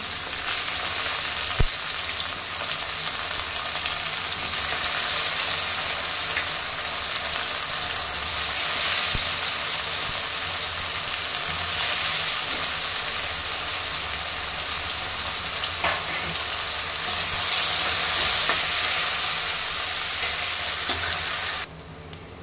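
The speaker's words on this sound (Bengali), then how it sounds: "তো তার জন্য মাশরুমটাকেও আমি একটু ভেজে নিচ্ছি।" Mushrooms fry in oil in a pan for mushroom curry, giving a steady, loud sizzle with a few scattered clicks and pops, and no voices.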